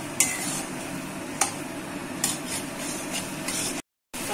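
Curry with spices stir-fried in a pan, a soft continuous sizzle broken by several sharp metallic clinks and scrapes of a spatula against the pan, close and clear with no talking.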